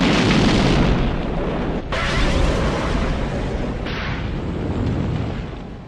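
A loud, booming film explosion from the James Bond movie Spectre (2015) rumbles and roars, with a second blast and sustained debris-like rushing noise that slowly fades.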